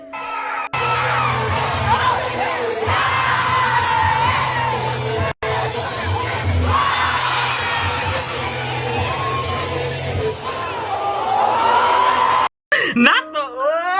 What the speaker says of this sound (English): And why were they cheering for this?